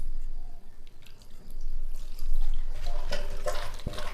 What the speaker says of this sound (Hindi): थोड़ा सा और पानी इसमें ऐड करते हैं।